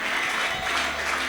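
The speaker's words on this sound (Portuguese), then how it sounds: "Você pode aplaudir mais forte." Church congregation applauding during a women's worship service, a brief, steady wash of many clapping hands, fairly even and heard alone.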